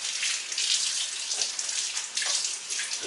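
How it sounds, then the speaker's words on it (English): Tap water runs steadily into a sink as hands are rinsed underneath, making a continuous splashing hiss that shifts as the hands move. No one speaks. "let me just rinse off my hands real quick"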